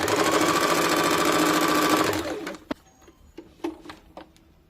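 A sewing machine stitching a 1.5-inch blouse strip runs loud and steady for about two seconds, then stops, leaving a few sharp clicks and handling knocks in a quiet room.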